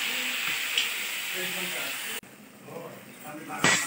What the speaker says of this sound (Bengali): সর্ষের তেলটাও গরম হয়ে গেছে, এখন ফোড়নটা দিব কালো জিরা, তারপর দিয়ে দিচ্ছি মাছটা।